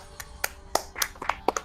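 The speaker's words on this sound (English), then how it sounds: "All right, I'm gonna clap." A handful of separate hand claps, irregularly spaced and fairly soft, sound against a quiet background.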